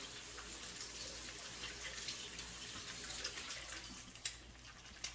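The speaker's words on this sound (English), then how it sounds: "wash my hands right here" A kitchen tap runs softly as hands are washed beneath it, a quiet, even rush of water with a few louder splashes near the end.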